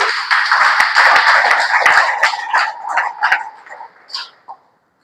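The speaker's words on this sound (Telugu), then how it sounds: "ఈ మాట గట్టిగా చప్పట్లు కొట్టండి" An audience claps together, a dense burst of hand claps that thins into scattered claps and dies out after a few seconds.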